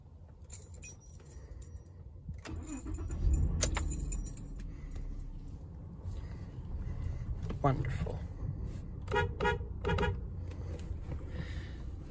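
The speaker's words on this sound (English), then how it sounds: "Sorry about the background noise, there is a wind chime." A wind chime tinkles in short bright bursts in the background outdoors, ringing intermittently over a low ambient rumble.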